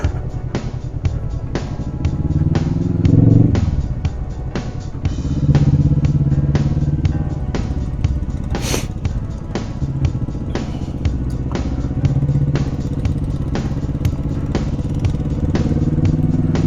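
Kawasaki Vulcan motorcycle riding on a high mountain road from Hunder toward Pangong Tso, with a steady engine drone and wind rush throughout, punctuated by frequent clicks and rattles, and no talking.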